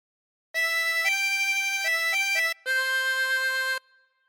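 A chromatic harmonica plays a slow phrase of Amazing Grace, several sustained reedy notes in a row, a brief gap, then one long held note, clear and alone.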